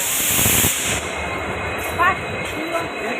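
A train passes at a station, its broad rumbling wheel noise and hiss loud at first and then easing, with a brief squeal and faint talk in the background.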